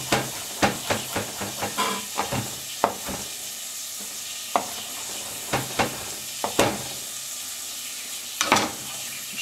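Carrots and fennel glaze in a pan, giving a low steady sizzle broken by sharp clinks and scrapes of stirring, some grouped in quick bursts, close and alone with no talk.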